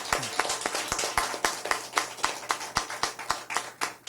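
Audience applause at a Korean political event, a steady patter of hand claps with sharp individual slaps, moderately close and loud, with no voices over it.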